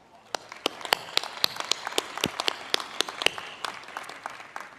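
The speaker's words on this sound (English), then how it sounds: "Please join me in a big round of applause." Applause rises at a Miami University spring commencement, a crowd clapping with distinct sharp claps standing out from a lighter wash, fairly close and continuous.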